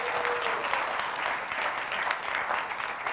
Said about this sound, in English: So we can applaud her.